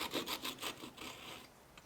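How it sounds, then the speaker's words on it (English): Flush cut saw cutting through a cork: a short run of about five quick, soft rasping strokes, close but quiet, trailing off into faint scraping. "I'm just using a flush cut saw to do this."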